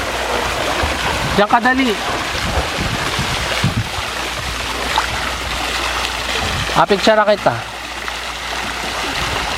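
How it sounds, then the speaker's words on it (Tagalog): A resort swimming-pool fountain splashes in a constant rushing hiss beneath family chatter, with voices breaking in at times over the steady water. "Ito yung fountain na sinasabi mo, di ba?"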